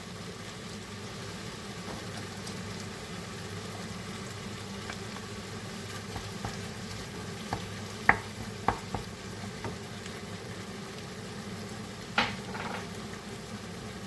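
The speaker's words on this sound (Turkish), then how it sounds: "Biberle domates salçamı karıştırdım güzelce." Minced meat fries in a pan as pepper and tomato paste are stirred through it, giving a steady low sizzle with a few soft scrapes and clicks of the spoon toward the end, no voices.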